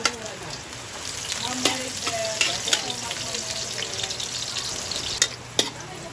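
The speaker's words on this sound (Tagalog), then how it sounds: "So, nag-gisa muna tayo ng bawang at sibuyas." Garlic and onion sauté in a pan for a chicken dish, sizzling steadily up close with scattered clinks and scrapes of stirring.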